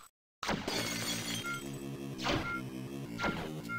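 Shattering in the ShatterBat video game, repeated bright glassy crashes ringing out over a rhythmic electronic music loop, loud and close after a brief silence.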